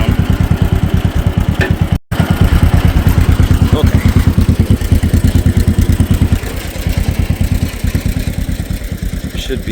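A 1950 John Deere M tractor engine idles steadily nearby, its rapid even low thumping pulses running continuously with a brief break and slightly softening later.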